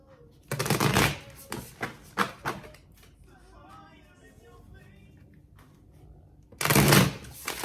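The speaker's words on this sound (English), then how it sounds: "do a couple shuffles" Crisp riffling bursts of oracle cards being shuffled, several quick flurries close up, a quiet pause, then another loud shuffle at the end.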